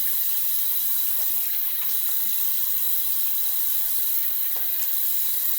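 A water tap runs steadily while a straight razor is rinsed under it, a constant hiss of flowing water with faint clinks, close and fairly quiet.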